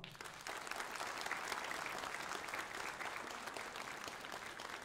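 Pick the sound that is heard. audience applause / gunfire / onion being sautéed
audience applause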